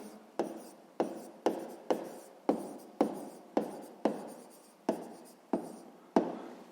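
A pen scratching on paper while working a sixth-grade maths exercise: about ten quick strokes in a steady, even rhythm, each a crisp close scratch that fades before the next, with no talking.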